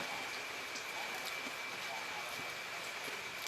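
Steady rain falling and hissing over a constant broadband wash, with scattered drop taps and a faint steady tone, while a voice talks softly in the background.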